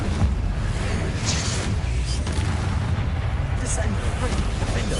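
Confringo spell explosions in the Hogwarts Legacy video game, with booming blasts near 1.3 and 3.7 seconds over a dense, continuous rumble of game effects.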